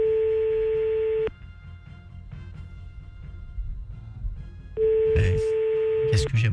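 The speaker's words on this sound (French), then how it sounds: "Ça sonne." Outgoing telephone call ringback tone, two long steady beeps separated by a pause, with a voice talking faintly in between and some clatter near the end.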